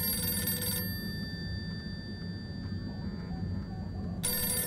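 A telephone rings in the handmade-style adventure game Harold Halibut, with a bright electronic ring at the start and again at the end, a quiet hum and faint ambience between.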